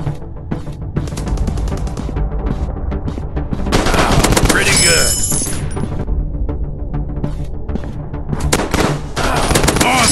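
Heavy, continuous machine-gun fire from an Android robot shooting game, loud and sustained for the whole stretch, with a denser burst of explosive crackling and shattering in the middle.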